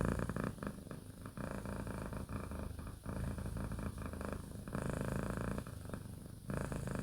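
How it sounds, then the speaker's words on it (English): A cat purring close by, a low continuous rumble pulsing with each breath, steady and alone. "maybe some of you actually need the purring"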